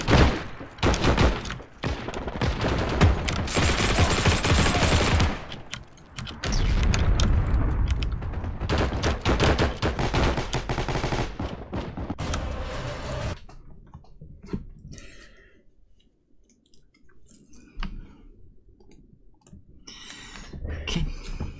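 Gunfire in the video game Frontline: heavy, rapid volleys of rifle and machine-gun shots with booms and mechanical clicks, loud and dense at first, then fading to sparse distant pops and rattles.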